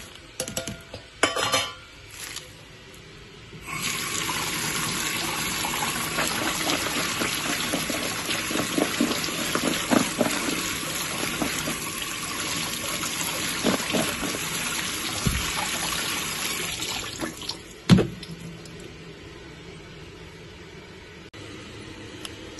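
Water from a kitchen tap runs steadily for most of the span while sambal ingredients are rinsed, with a soft gushing wash and occasional clinks of dishes, starting after a few seconds of faint handling noise.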